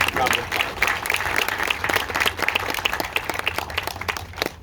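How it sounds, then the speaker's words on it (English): Steady applause from a crowd at a post office renaming ceremony honoring Ritchie Valens in Pacoima, many hands clapping continuously at fairly close range, slowly thinning toward the end. "I'd like to give them a big round of applause."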